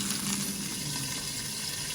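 Pork chops sizzle steadily in a frying pan, a dense, continuous hiss of frying fat at close range with no voices over it.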